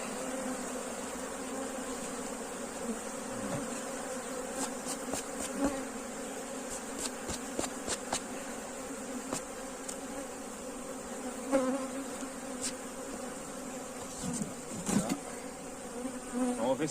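A honeybee colony hums in a steady, continuous drone during a hive rescue and super check, close and even throughout, broken by scattered light taps and clicks of hive frames being handled.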